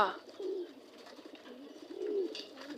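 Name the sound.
pigeons cooing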